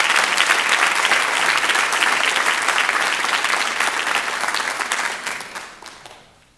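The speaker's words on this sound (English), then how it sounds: "if we could hold our applause until all of our distinguished scholars are recognized" An audience at a high school junior and senior awards night breaks into dense, sustained clapping that holds steady, then gradually fades away over the last couple of seconds.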